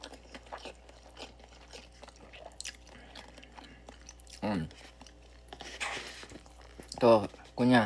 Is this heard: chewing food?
yes